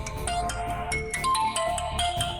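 Mobile phone ringing with an incoming call, a melodic electronic ringtone of quick repeating chimes playing continuously, fairly loud and close, with no voices over it.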